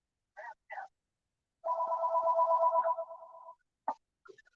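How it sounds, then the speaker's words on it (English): A telephone rings at a barbershop, with a long sustained electronic ring tone framed by a few short chirps before and after. It is fairly close and clear, with no talk over it. "My phone's even ringing here at the barbershop."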